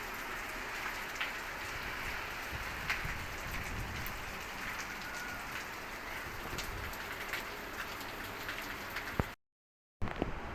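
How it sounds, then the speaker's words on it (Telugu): Heavy rain pouring steadily outside a house on a still, windless day, a dense continuous hiss of drops on surfaces that stays loud and even throughout, broken by one brief silent gap near the end. "బయట అయితే ఘోరంగా వస్తుంది వాన"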